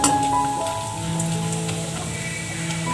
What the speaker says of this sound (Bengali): তেল আমার গরম হয়ে গেছে, আমি ওই গ্রেট করা বাদামগুলোকে দিয়ে দিলাম